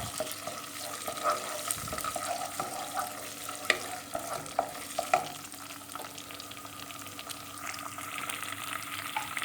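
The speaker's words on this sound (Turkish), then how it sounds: "domates salçası ekliyorum arkadaşlar. Ve salçanın kokusu çıkıncaya kadar karıştıracağız." Tomato paste is stirred and fried in a pan for a nettle stew, giving a soft continuous sizzle broken by occasional spoon scrapes and light knocks against the pan.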